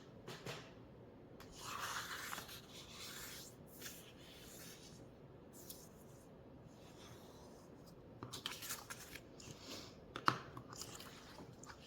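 Paper creased and folded over while making a small junk journal booklet, with soft rubbing and crinkling bursts, a louder patch early and scattered sharper crackles near the end, fairly faint and close with no talk.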